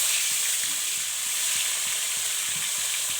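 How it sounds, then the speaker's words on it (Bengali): Tilapia fish frying in plenty of hot oil in a wok gives a constant close, bright sizzle with a soft rhythmic bubbling underneath, heard alone without any voices. "মাছটা একটু আলগা ভাজলেই হবে।"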